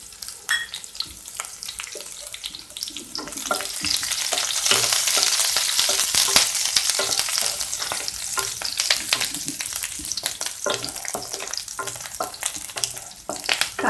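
Onion and curry leaves frying in oil in a pan, a loud close crackling sizzle that swells and stays busy, with occasional stirring clatter and no voices.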